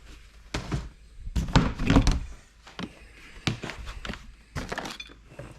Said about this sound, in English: Let me actually open up the bin and show you.